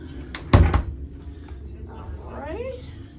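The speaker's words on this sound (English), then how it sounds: "the drawers that you see when I close them, they don't slam" Soft-closing drawers in a Carnival Celebration balcony cabin glide shut with one muffled thump and no slam, followed by quiet room tone and a faint squeaky sound.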